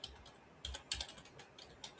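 A computer keyboard types a file path in a short burst of light, uneven keystrokes, close and quiet, with no voice.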